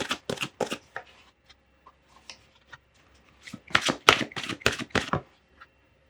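Oracle cards are shuffled by hand for a tarot reading, with quick bursts of crisp riffling and flicking in two clusters separated by a few soft taps, close and clear with no talking.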